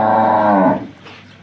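A local Banaskantha cow gives a single loud, close moo lasting under a second while being milked, fading into quiet barn background.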